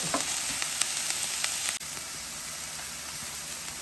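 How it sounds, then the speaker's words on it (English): Onions and chopped beef sizzle steadily on a Blackstone 17-inch E-Series electric griddle, a dense close frying hiss with a few faint scraping ticks and no talk. "We'll let these onions keep cooking up."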